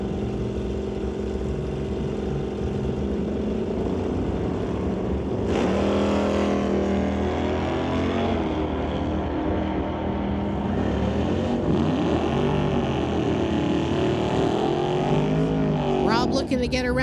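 A 1990 GMC drag race car with a 350 small block Chevy roars loudly under a commentator's voice at a drag strip. Engine tones rise and shift midway, with a sharp burst of revving near the end.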